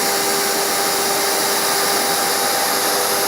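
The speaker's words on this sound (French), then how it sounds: "je vais démarrer la machine et je vais plonger." A plunge router whines at a loud, steady high pitch while it cuts into wood. The tone holds constant and close throughout.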